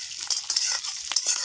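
Fresh green peas and green chilies frying together in a pan, giving a continuous bright crackling hiss with small popping bursts, close and fairly quiet, with no voices.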